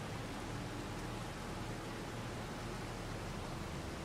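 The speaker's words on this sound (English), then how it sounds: "Oh, we got some rain." Rain falls steadily in the video game Farming Simulator 2025 as an even, faint hiss with no changes and no talk.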